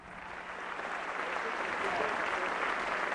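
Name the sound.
standing ovation applause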